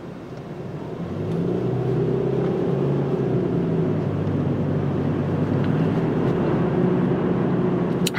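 Engine noise from a 2010 Subaru Outback 2.5i with a CVT, heard from inside as it accelerates: a low, steady drone swells after the first second and holds evenly, with road and wind noise and no talking.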